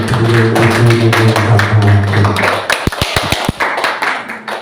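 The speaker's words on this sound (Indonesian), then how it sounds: "Tepuk tangan buat guru-guru." Teachers receive a brief round of hand clapping, a few sharp close claps following a stretch of voices and background noise.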